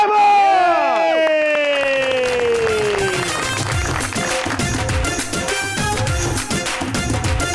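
A studio audience on a Pakistani TV talk show breaks into dense applause and cheering for an arriving guest singer, following a bright sweeping musical stinger, the crowd noise staying loud and steady to the end.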